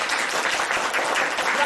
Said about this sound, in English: clap if she was here to lend assistance